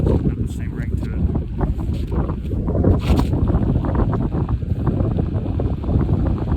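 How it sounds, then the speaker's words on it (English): Steady roar of wind buffeting the microphone while riding a Begode EX20S electric unicycle off-road through snowy winter terrain, loud and continuous throughout with no clear speech. "Now we're going to be against the wind the rest of the way back."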